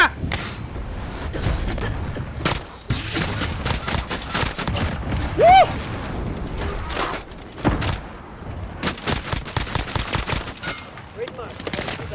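Rapid gunfire bursts and single shots from a zombie-mode shooting video game, dense and continuous with thumps and game effects throughout, layered under in-game noise.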